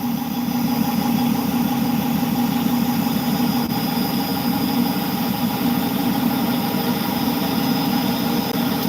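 A machine boring holes in gun parts, with coolant spraying, runs in a steady, loud, continuous hum with a constant mechanical drone and no pauses throughout.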